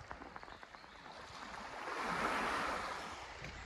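Surf washing onto an abandoned beach on the Devon coast, a steady broad wash that swells to a louder surge midway and then eases back, with no voices.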